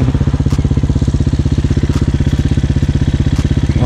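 A Hawk 250cc street legal dirt bike engine running close by, a loud, steady rapid thumping with an even pulsing rhythm throughout, with a few faint clicks on top.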